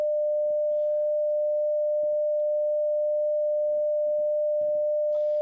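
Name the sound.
sine wave from a C++ JUCE wavetable synthesizer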